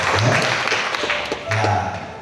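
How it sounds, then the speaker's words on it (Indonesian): A church congregation applauds during a sermon, a brief burst of clapping mixed with voices and some taps, fairly loud and close. "Kita berikan tepuk tangan buat gereja Allah."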